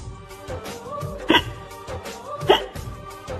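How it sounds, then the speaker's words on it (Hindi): Two sharp hiccups from a person who has eaten chili-spiked gulab jamun, spaced about a second apart, close and distinct over a faint murmur of background sound. "हिचकी क्यों आ रही है?"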